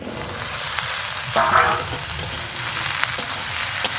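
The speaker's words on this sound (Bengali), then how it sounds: "পেঁয়াজ একটু হালকা করে নেড়ে নিয়েছি" Sliced onions fry in a pan and are stirred, giving a continuous close sizzle broken by scraping utensil strokes and a few sharp clicks.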